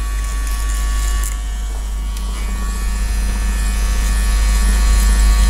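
Electric hair clippers buzz steadily and close by, cutting a man's hair for an Elvis pompadour, a continuous loud motor hum with no talk.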